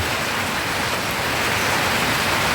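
Rain falling steadily, a continuous dense hiss of drops with no breaks and no talking, fairly loud throughout.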